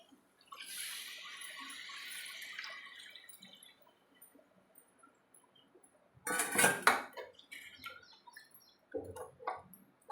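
Water is poured into a pan of simmering fish curry (chepala pulusu) with a soft, steady rush of a few seconds, followed after a pause by short clatters of a utensil against the pan. No one speaks.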